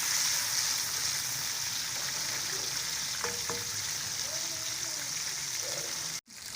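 Ginger garlic paste frying in a pan for Mexican chicken rice, a steady soft sizzle running throughout with a few light stirring clinks, and a brief sharp scrape near the end.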